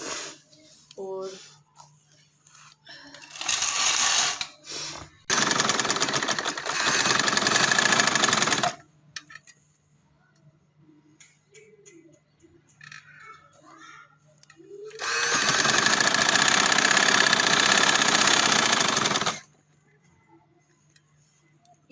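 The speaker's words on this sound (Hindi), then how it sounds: "तो इस तरह रख के तो इसमें सिलाई लगाती जाऊंगी।" A sewing machine stitches fabric for a kameez with gathered sleeves, running in two long, loud, steady bursts of several seconds each, separated by quieter handling noises and pauses.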